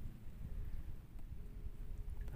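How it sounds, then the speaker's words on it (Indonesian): Rain beginning to fall on a small fishing boat at sea, a soft continuous hiss and patter with low rumbling underneath and no voices. "hujan juga sudah mulai jatuh-jatuh ini"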